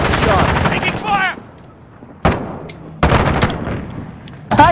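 Video game gunfire, sharp loud bursts of shots in separate clusters with gaps between, mixed with voices talking over the action.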